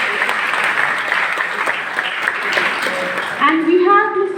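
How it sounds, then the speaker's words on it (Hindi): A hall audience at a university meet-up applauds with a loud, dense, sustained clapping, and a voice cuts in over it near the end. "तालियां थोड़ी कम बज रही हैं, थोड़ा और।"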